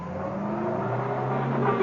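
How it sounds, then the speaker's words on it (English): A car pulls away in a radio drama effect, a steady engine rumble that builds slightly as it accelerates, loud and close with no voices. "Mrs. Peel heard the car taking off"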